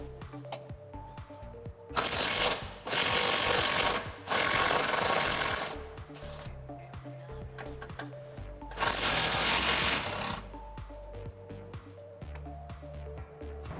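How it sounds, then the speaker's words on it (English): Impact wrench with a 16mm socket backing off rear bumper bracket bolts on a Jeep Wrangler JL: two loud, sustained rattling bursts of about two seconds each, then a third burst after a pause, with quiet shop sound between. "I'm going to use a 16mm socket and my impact wrench to remove those"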